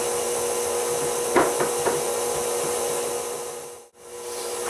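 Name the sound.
whisking dry ingredients together in a bowl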